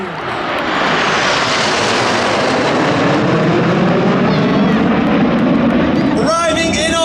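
Royal Air Force Red Arrows aerobatic jets fly past at an air festival display in the Midlands, a loud sustained roar that swells and holds for several seconds, with a public-address announcer's voice cutting in near the end.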